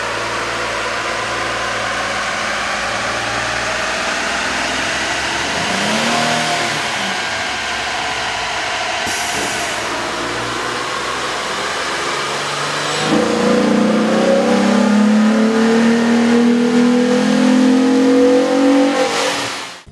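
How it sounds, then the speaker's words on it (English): A 2007-2011 Jeep Wrangler JK's 3.8L V6 fitted with a K&N 77-1553KP cold air intake, running on a dyno with a steady loud drone that surges into a rising high rev near the end. "we ran the vehicle on the dyno to test the sound comparison versus the stock intake."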